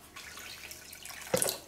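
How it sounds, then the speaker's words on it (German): Tap water runs into a cooking pot for canning jars, a soft steady trickle that swells into a brighter splashing gush near the end. "Füllen wir Wasser in den Topf, dass unsere Gläser mindestens 2/3 stehen im Wasser"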